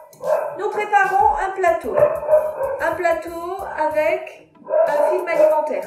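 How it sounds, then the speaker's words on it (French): A pet female dog gets worked up and barks in a home kitchen while truffles are being prepared, her barks mixed in beneath steady, continuous talking that runs through nearly the whole stretch. "Alors, désolé pour le son, j'ai ma chienne qui s'énerve."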